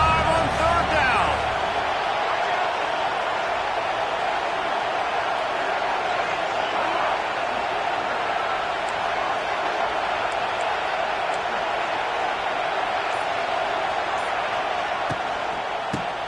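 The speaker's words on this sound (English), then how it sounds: "The Buckeye crowd alive on 3rd down." A roaring home crowd fills a Buckeyes college football video game on third down, a steady wash of cheering noise held beneath continuous play-by-play commentary.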